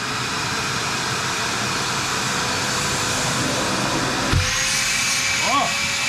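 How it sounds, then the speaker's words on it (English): A large shop vac rated at 6 peak horsepower, powered by an EcoFlow Delta II battery station, keeps up a steady loud whining roar, and a brief thump and a shifting tone come near the end. "plugged right now into my vacuum, my shop vac, which is kind of massive"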